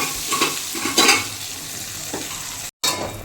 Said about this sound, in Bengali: আর হচ্ছে পটল ভাজা